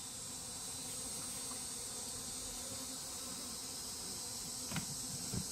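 Honey bees buzz around an opened hive in a field, a steady, close, continuous drone holding throughout, with a couple of faint knocks near the end.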